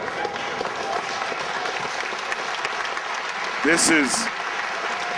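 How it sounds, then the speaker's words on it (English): A wrestling crowd applauds during a title match between Steve Corino and Al Snow, continuous clapping filling the arena while a commentator talks over it. "applause from the crowd now as Steve Corino gets helped up"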